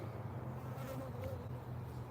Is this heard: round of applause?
no